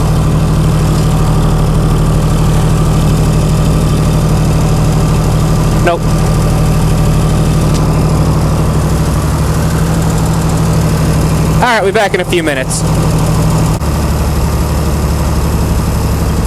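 Chrysler Slant 6 generator engine idling with an exhaust nearby, a loud, steady low rumble throughout while someone speaks briefly over it, with a couple of short clanks.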